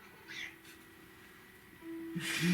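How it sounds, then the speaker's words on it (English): A black cat gives a couple of short, high meows, one early and another near the end, fairly close but soft over a quiet indoor hum, with no talk. "You can't really see him because he's a black cat, but he's really there."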